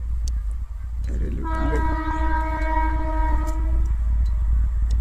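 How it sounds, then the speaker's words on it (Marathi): An Indian Railways train rumbles past with a steady low roar, and a long multi-tone horn blares loudly for several seconds over the noise. "Indian railway"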